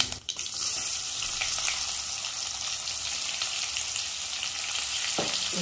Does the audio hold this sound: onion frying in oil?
yes